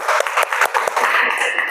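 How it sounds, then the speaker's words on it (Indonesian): A classroom of students gives a student group close, lively applause with rapid overlapping claps, and children's voices mix in. "Tepuk tangan buat kelompok"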